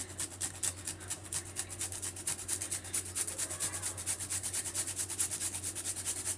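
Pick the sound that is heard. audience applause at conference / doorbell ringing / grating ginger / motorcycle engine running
grating ginger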